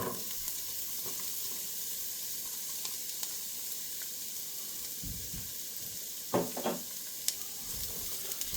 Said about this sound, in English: hot pan, just a very small amount of oil, and we'll go straight in with our onion